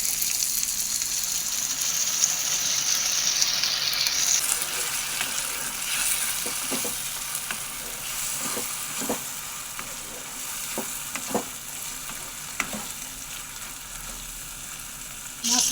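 Spice paste frying with onion, green chili and tomato in a pan for chicken kosha: a continuous bright sizzle with scattered stirring clicks and scrapes, close and steady.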